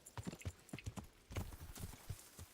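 Hooves clip-clop in a quick, uneven rhythm, fairly close and faint, like a horse trotting nearby in the video game Kingdom Come: Deliverance.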